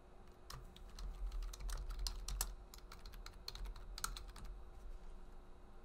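Keys clack in quick, uneven bursts on a computer keyboard as a list name is typed into Open Dental software, a close and fairly quiet patter of clicks with no voices.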